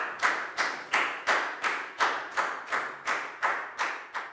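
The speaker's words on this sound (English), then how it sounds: "a big round of applause for Net" Steady, evenly spaced hand claps, about ten in a row, from a primary class applauding a student during a Year 4 maths lesson; crisp, fairly close and alone, with no talking over them.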